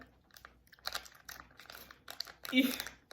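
Crinkly plastic wrapper on a coconut candy being worked at and pulled open in short bursts, with a louder rustle near the end while a person talks alongside.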